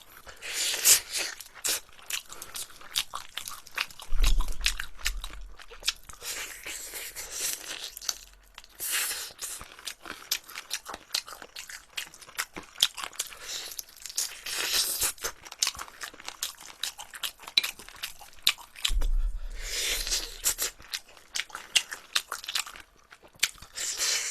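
Close, loud crunching and chewing of crispy fried soy-garlic chicken with sauce, a steady run of crackly bites and tearing with wet mastication between them, no talking.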